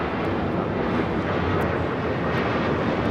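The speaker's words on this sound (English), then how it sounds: "This is Southwest Airlines 2613 taking off to Las Vegas on a 737-700." A Southwest Airlines Boeing 737-700 takes off from LAX with a steady, broad jet roar, distant and unbroken for the whole stretch, with no voices.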